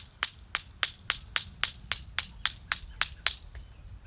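Old mortar from about 40 years ago being chiseled off a grave marker, a steady series of about thirteen sharp, evenly spaced metallic taps at close range with no talk.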